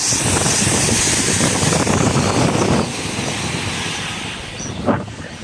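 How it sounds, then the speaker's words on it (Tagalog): Big storm-driven waves surge and crash along Manila Bay, a steady roar of churning water and gusty wind buffeting the microphone, easing slightly partway through before a sharper splash near the end. "Ang lalaki ng alon dito."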